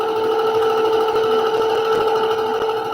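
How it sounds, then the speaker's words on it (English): A sewing machine runs a quarter-inch seam in a continuous, fast, even hum with a rapid needle rhythm, close and steady for the whole stretch with no talking. "go ahead and sew 1/4 of an inch all the way down"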